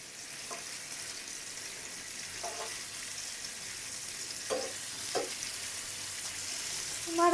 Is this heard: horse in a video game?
no